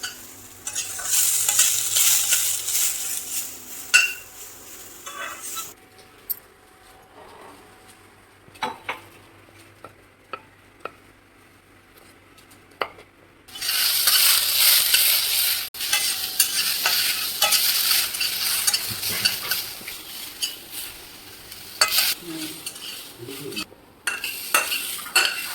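Okra seeds roasting in a kadhai while being stirred, with bursts of loud dry sizzling and scraping, a quieter stretch of occasional clinks of a spoon against the pan, then sizzling stirring again.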